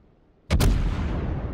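Naval artillery in the World of Warships video game fires a sudden loud double boom, close and heavy, followed by a rumbling tail that fades slowly.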